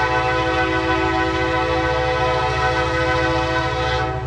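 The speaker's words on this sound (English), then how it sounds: "The GP59E in the lead is surprisingly quiet at a distance, with a rebuilt 12-cylinder EMD 710 G3B prime mover hard at work." A GP59E locomotive with a rebuilt 12-cylinder EMD 710 G3B prime mover hauls a heavy stone train, a loud sustained tonal horn-like drone with a low rumbling engine throb, steady throughout and fading slightly at the end.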